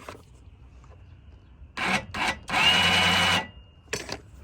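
A cable is pushed through a hole freshly widened with a drill during trailer repairs, giving short close scraping and rubbing bursts followed by a longer steady rasp as it slides through.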